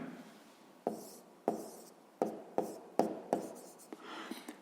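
Pen strokes on paper write out a math answer, a series of short close scratches and taps in an irregular rhythm, quiet, with faint whispering around them.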